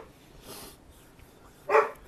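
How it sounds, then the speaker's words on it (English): A single dog barks once, fairly close and sharp, after a fainter earlier woof or huff, in an otherwise quiet outdoor garden setting. "still babysitting a dog, so y'all overlook, you know, the barking"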